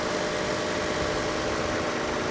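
A Toyota Tacoma pickup's V6 engine idling, a smooth, even, continuous hum close to the microphone with no voices.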